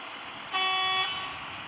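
A car horn gives one sharp, loud honk of about half a second, close by, against a quiet street background with no talking.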